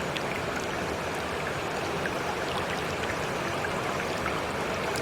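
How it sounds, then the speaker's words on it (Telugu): A strongly flowing river stream rushes in a dense, steady wash of water noise that stays loud and even throughout, with no voices. "ప్రవాహం చాలా తీవ్రంగా ఉన్నట్టుంది"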